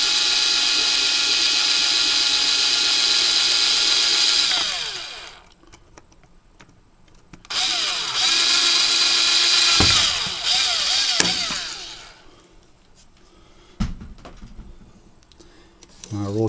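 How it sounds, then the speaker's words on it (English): A drill boring a hole into a Sony s600 camera body just below the lens cover switch, running in two long high whining bursts separated by quieter pauses with brief knocks and handling noise, heard up close. "I'm just going to drill that out quick."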